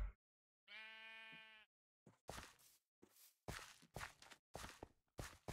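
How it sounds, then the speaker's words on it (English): A sheep in a video game gives one clear, wavering bleat, followed by a run of crisp, evenly spaced footsteps crunching close by, with no other sound between. "There's the sheep."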